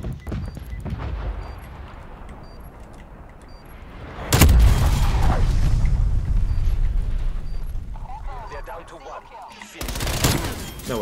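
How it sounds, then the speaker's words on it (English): A grenade explodes in a first-person video game, a sudden loud boom midway that rolls into a sustained roar of blast and gunfire, then another heavy burst near the end, with someone talking over it. "So I throw a grenade there."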